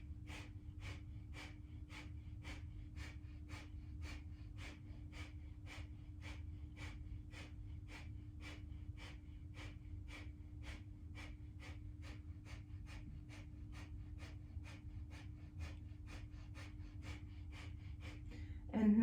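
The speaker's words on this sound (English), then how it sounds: "So you can continue the breath of fire here or just long deep breathing." Rapid, rhythmic breath of fire yoga breathing through the nose, a steady train of about two short sharp exhalations per second continuing evenly for the whole stretch over a low constant hum, close and clear.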